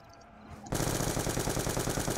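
Sustained rapid automatic gunfire shooting zombies in Black Ops 2 Zombies on the Farm map, loud and continuous after a quieter moment of ambient game sound.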